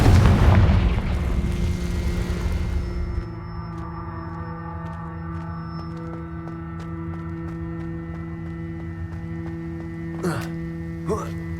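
Confringo fire-blast spell in Hogwarts Legacy: a heavy booming explosion at the start, then a sustained tonal rumble and ringing hum that fades slowly, with short crackles and a brief burst near the end.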